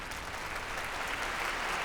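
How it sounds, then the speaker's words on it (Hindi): Audience applause in a hall at a public gathering for a social worker taking the microphone, a steady dense wash of clapping throughout, fairly distant and even. "आप सब तालियां बजाइए, सेवक राम जी माइक पर आ रहे हैं।"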